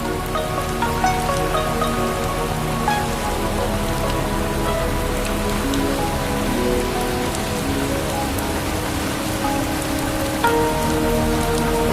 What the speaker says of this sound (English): Undaunted by the sudden tropical downpour, the journey continues.